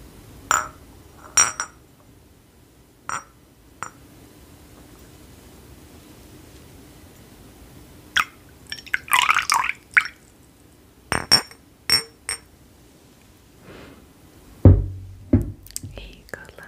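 Liquid is poured into a glass in a quiet indoor setting, with soft clinks and short splashy pouring bursts interspersed with whispered speech and brief pauses.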